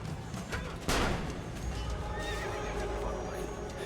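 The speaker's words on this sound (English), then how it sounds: "Stop getting trampled by a horse." Horse in the Assassin's Creed video game giving a loud neigh amid hoof clatter and game noise, with a player's voice talking over it.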